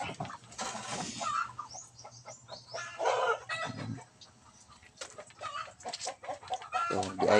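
Chickens cluck and call in quick irregular bursts nearby, some louder squawks rising over softer clucking, with no talking.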